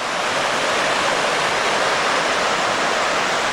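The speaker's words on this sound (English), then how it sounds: "Got a beautiful view of the creek there." Creek water flows and rushes beside a trail, a loud, steady broadband wash that holds constant with no voices.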